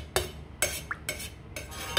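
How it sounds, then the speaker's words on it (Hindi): A spoon stirs cooking white chana rice in a metal pot, knocking against the rim four times at a slow, even pace, each a short clear clink with soft scraping in between. "थोड़ा सा हमने चमचा हिला देना"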